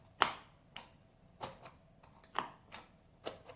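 Keys of a 3D-printed Braille typewriter are pressed down and fed forward, giving a series of about six sharp clicks and clacks spaced irregularly, close and clear against a quiet background.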